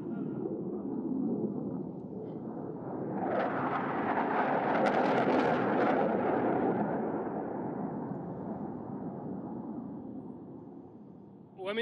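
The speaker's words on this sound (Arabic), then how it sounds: "تشكيل ثنائي من طائرات التايفون متعددة المهام." Two multirole Typhoon jets sweep overhead at an aerial display, a low rushing roar that builds steadily, peaks around the middle, then fades away into the distance.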